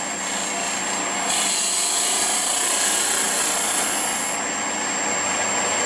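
A Hunter hollowing tool with a swan-neck shaft cuts wood on a lathe, a loud continuous hissing, scraping whir that rises in intensity after a second, holds steady, then eases near the end, with no talking.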